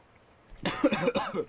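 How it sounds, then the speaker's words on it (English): A short burst of several harsh coughs, close and fairly loud, following a moment of quiet. "Just coughs."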